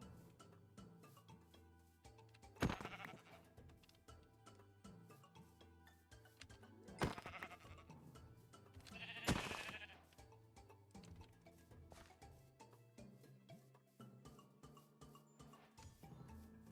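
Sheep bleat in Minecraft in three short, separate bursts spread across a quiet stretch of faint game music and ambient sound.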